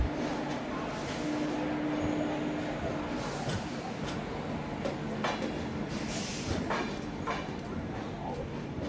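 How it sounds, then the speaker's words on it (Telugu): A passenger train with LHB coaches pulls out of Vijayawada station, a steady rumbling rolling noise with clanks and brief squeals heard from inside the coach, moderately faint throughout. "ఇప్పుడు మన బండి అయితే విజయవాడ నుంచి స్టార్ట్ అయిపోయింది."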